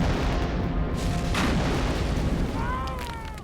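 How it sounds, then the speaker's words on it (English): Wartime gas attack rendered as a loud artillery and explosion effect, a dense continuous rumble of booms and blasts with a rising whistle near the end. "The English gas attack burst loose."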